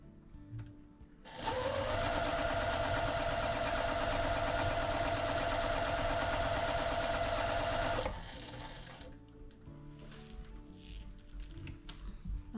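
A sewing machine chain stitches quilt blocks from a pre-cut quilt kit in one continuous, loud, even run of about six and a half seconds, then stops, leaving quiet handling sounds.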